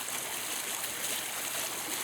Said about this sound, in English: This is the Nami fountain.